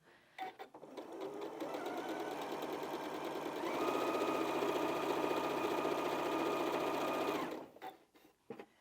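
A sewing machine runs steadily, stitching a quarter-inch seam on strips of fabric for a quilted strippy bag. The whir is continuous and close, with a faster, higher-pitched stretch in the middle, then it stops.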